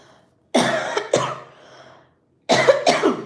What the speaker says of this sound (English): I still have this stupid cough from weeks ago.